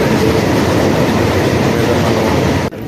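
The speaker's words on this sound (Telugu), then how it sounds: "ట్రైన్ ప్రయాణిస్తుంది" A passenger train on the Simhadri Express route near Vijayawada rumbles steadily along the rails, a loud continuous roar with faint rhythmic clatter, heard from inside the carriage.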